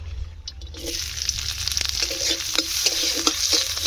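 Chopped onion and green chili hit hot oil, a sizzle that rises quickly and then crackles steadily, close up, with repeated sharp stirring taps and scrapes and no talking.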